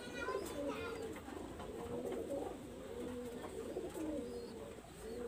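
A female tiger-marked pigeon cooing in repeated soft, low throaty phrases close by, with faint background noise.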